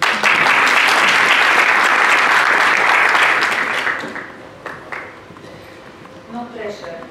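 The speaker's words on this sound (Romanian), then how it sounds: "Aplauze!" Audience at a hotel debate event bursts into loud, dense applause that holds for about four seconds, then tapers to scattered claps while a speaker begins talking.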